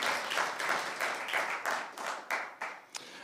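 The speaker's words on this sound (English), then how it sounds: "round of applause for her for putting up with me" An audience claps at a church service, a dense round of applause that swells in uneven waves and then thins toward the end, with a few individual claps standing out near the close.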